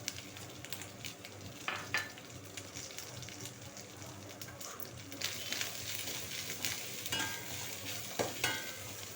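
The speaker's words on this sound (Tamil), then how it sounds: "சேர்த்துட்டு அதையும் இதோடு சேர்த்து வதக்கிக்கலாம்." Grated coconut sautéing in a pan while green chilli thuvaiyal is cooked: a soft, steady sizzle with scraping stir strokes and a few sharper clatters of the spoon against the pan, close and without speech.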